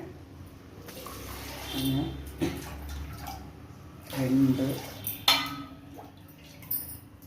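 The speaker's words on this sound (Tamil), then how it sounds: "இப்போ பாருங்கள் நான் அஞ்சு டம்ளர் தண்ணி ஊற்றுறேன்" Water pours in short splashing bursts into a metal pressure cooker, five tumblers in all, with clinks of a cup against the rim while a person talks between pours.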